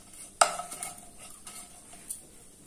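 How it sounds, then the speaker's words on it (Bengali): A spoon clanks once against a pan while food is stirred and fried in white vegetable oil for a Bengali jukti phool recipe, followed by softer scraping and a faint sizzle. "তেলটা দিয়ে আবার একটু আমি নেড়ে চেড়ে ভেজে নেব"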